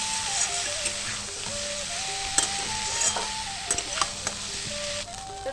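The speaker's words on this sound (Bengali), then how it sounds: "এবার সবকিছু নাড়াচাড়া করে একটু ভেজে নেব।" Pointed gourd and masoor dal sizzle in a pan as they are stirred, a soft steady frying hiss broken by occasional clicks and scrapes of the spoon.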